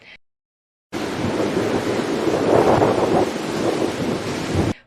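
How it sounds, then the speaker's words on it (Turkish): A strong storm with heavy rain in Hatay on the Eastern Mediterranean coast, a loud, steady roar of rain and wind that starts abruptly and holds at constant intensity. "Hatay'da yağışlı hava ve kuvvetli fırtına gece saatlerinden itibaren etkisini hissettirmeye başladı."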